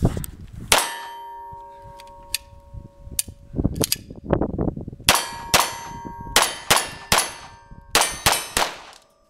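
A Chiapa pistol loaded with Winchester Super X ammunition fires a string of about ten shots at steel gongs roughly 10 to 12 metres away. Each shot is a bright metallic clang that rings on briefly, spaced irregularly at first and then in a steadier rhythm.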